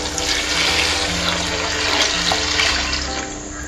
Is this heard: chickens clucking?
no